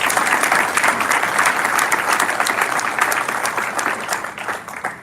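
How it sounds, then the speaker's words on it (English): A large audience gives a round of applause at a fundraising gathering. The clapping is loud and dense and holds steady throughout before easing slightly at the close. "Let's give ourselves a round of applause."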